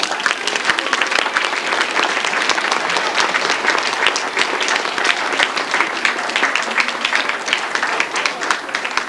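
Dense, sustained applause from an audience at a fifth-grade school awards ceremony, many hands clapping steadily and loudly throughout with no break.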